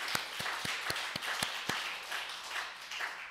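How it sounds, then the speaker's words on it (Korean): Church congregation at an Easter Sunday service applauding together, a steady wash of many hands clapping with a few sharper individual claps standing out, moderately distant and fairly quiet. "기쁘고 감사하면 우리 하나님께 큰 박수를 한번 돌리도록 하겠습니다."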